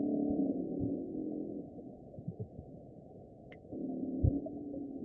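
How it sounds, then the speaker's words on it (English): Freshwater drum fish call underwater in the Hudson River, a low droning knock-and-grunt rumble that swells, fades in the middle with scattered thumps, then returns, faint and muffled throughout. "This is an example of what individual freshwater drums sound like."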